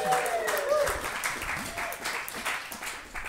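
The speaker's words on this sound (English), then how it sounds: "Another round of applause for Robin Hatch" A live talk-show audience gives another round of applause for guest Robin Hatch, close clapping with whoops and voices mixed in, steady and fairly loud for the whole stretch.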